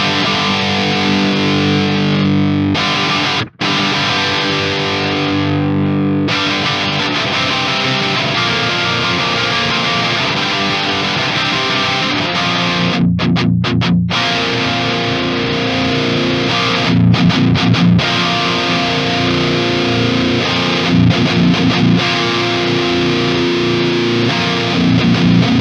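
An electric guitar runs through a Marshall amp on the OD2 Red channel, played with thick distorted chords and sustained riffs for over twenty seconds, loud and continuous with a few brief pauses between phrases.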